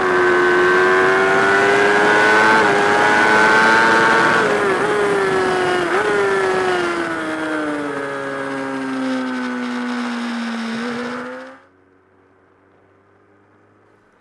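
A motorcycle laps the Aragon race circuit, its loud engine note climbing and falling with gear changes and then dropping as it fades into the distance before cutting out near the end.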